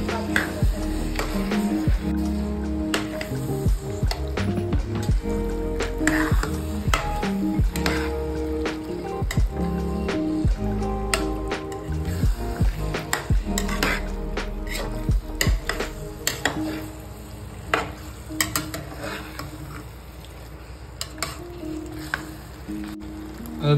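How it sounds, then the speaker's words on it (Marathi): Black-eyed peas and potatoes with masala are stirred in a pot of simmering bhaji, with wet squishing, scraping against the pot and a low sizzle running throughout, and nobody speaks. "हे चांगले आपण मिक्स करून घेणार आहोत"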